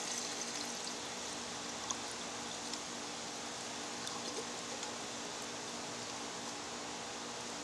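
Water pours steadily into a metal canteen cup at a campsite, a continuous soft rushing stream at low level with no talking.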